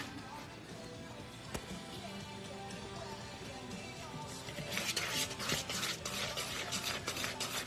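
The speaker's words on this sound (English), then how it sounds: "Okay, so I've got my flour mixture, and I'm just going to, like, use a spoon" A spoon stirs a flour mixture for a vegan pumpkin roll, soft scraping and clinking in a bowl that grows busier and more rhythmic toward the end, with a faint background hum.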